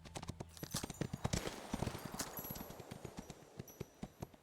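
Horse hooves clip-clop in the video game Windstorm as a quick, even run of close, crisp beats that goes on throughout without any talking.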